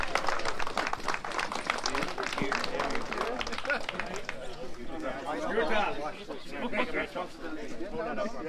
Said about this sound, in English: one more round of applause for the top 3 finishers